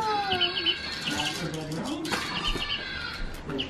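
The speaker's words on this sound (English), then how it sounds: "She tweets. She's a little tweety bird." Chirpy toy bird tweets at an Easter egg hunt, a string of high repeated whistling peeps running alongside children's and adults' chatter.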